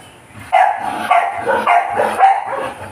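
A hungry dog barks excitedly in a quick run of close, loud barks, with a few yips between them. A quieter stretch comes before the barking starts.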